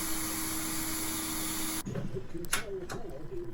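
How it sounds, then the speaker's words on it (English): A vacuum cleaner steadily sucks crumbs out of a Breville toaster, a loud continuous whine that cuts off abruptly partway through, followed by quieter clunks and handling noises. "I'll just vac it up with my vacuum cleaner."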